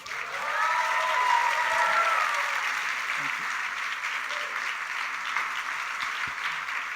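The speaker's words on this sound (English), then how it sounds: "Give Maya a big round of applause" A crowd applauds steadily and loudly for several seconds, a dense wash of clapping that gradually eases slightly, with a few voices mixed in.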